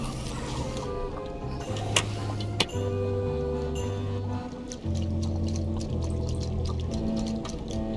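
Plates being washed in the video game Return to Monkey Island: a running water and pouring wash with small clinks and a couple of sharp knocks, over a steady game music bed.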